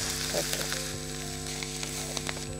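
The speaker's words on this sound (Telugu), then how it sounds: "క్యాబేజ్ వేగుతోంది సరిపోతుంది" Cabbage frying in a pan, a steady close sizzle with a few light scrapes, no talking.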